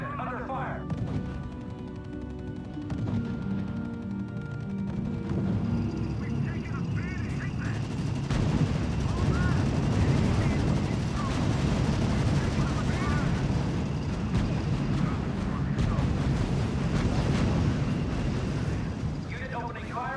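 Gunfire from military units in the R.U.S.E. strategy game, with rapid bursts, booming impacts and rattling shots layered over a dense battle din, while a radio-style voice delivers brief unit reports.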